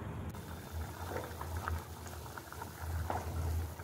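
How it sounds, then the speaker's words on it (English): Pork with bitter gourd boiling in a pot, a steady bubbling simmer with soft popping and gurgling throughout, close and moderately loud with no voices. "It has started boiling."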